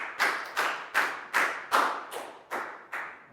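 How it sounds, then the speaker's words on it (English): A small primary-school class claps together in a slow, even rhythm, about eight distinct near claps spaced roughly half a second apart. "Big round of applause for Down."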